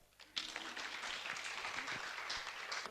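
An audience breaks into steady clapping after a reading, dense and sustained at moderate distance, rising abruptly and holding at an even level to the end.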